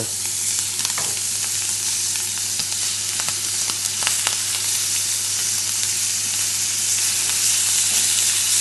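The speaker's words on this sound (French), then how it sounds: "avec le surplus de graisse de l'escalope, on va profiter pour poêler l'ormeau" Abalone pan-fries in rendered foie gras fat, a steady close sizzle and crackle with small pops and spits throughout and no voices.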